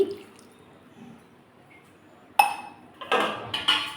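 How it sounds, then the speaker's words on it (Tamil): A short splash of water poured into a metal pan of kadai 65 meatballs with a little salt, with a few clinks and a brief hiss as it hits the hot surface. "இப்போ கொஞ்சமாக தண்ணி ஊற்றினா போதுங்க."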